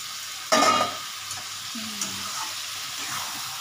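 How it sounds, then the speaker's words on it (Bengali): Vegetables and spices being sautéed in a pan, a soft sizzle under a sharp clatter of stirring near the start, then scattered scrapes and light knocks of a spoon. "কষাতে কষাতে আমার এই সবজিটা মশলাটা হয়ে যাচ্ছে"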